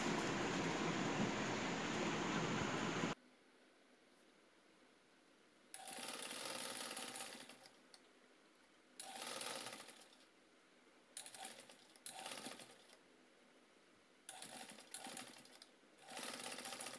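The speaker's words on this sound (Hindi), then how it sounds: "अब हम यहाँ से सिलाई करेंगे।" Sewing machine stitching a handmade handbag, with quiet rattling runs in short separate bursts and pauses between them, near and faint, after a louder opening stretch of other noise.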